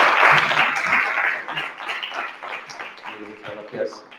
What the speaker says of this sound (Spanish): Les damos un aplauso primero.